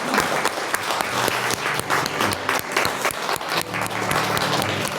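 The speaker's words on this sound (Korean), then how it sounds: "우리 하나님께 영광의 박수 한번 올려드리면서 꼭 함께 해주십시오." A church congregation claps together in praise during a worship service, a steady run of fairly loud, rhythmic claps filling the room with no speech over it.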